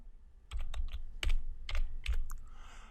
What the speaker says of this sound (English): So I type in customer.